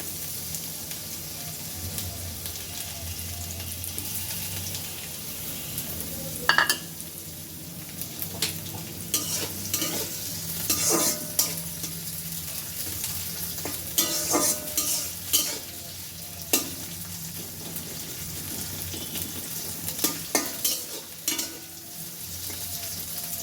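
Onions and chillies sizzle steadily in a pan for a Chinese-style vegetable dish, with a constant frying hiss broken by sharp clinks and scrapes of a utensil stirring, close and without talk.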